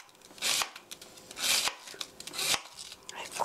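Knife strokes thinly julienning leftover cabbage, with close, crisp slicing bursts in quick runs and short pauses between them.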